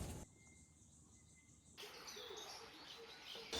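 Birds call softly at the Birds of Eden sanctuary in Plettenberg Bay, faint chirps over a quiet outdoor background that grows busier partway through.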